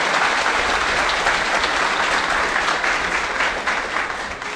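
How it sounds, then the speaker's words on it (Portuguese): Audience applause at a national congress celebrating a birthday, steady dense clapping from a large crowd filling the room throughout, loud and continuous with no speech over it. "Uma salva de palmas para o nosso aniversariante."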